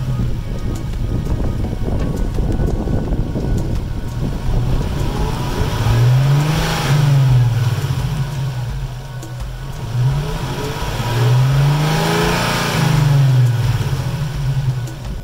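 A Nissan 370Z engine revs repeatedly under a steady loud idle, with a few sweeping rises and falls in pitch and no talking.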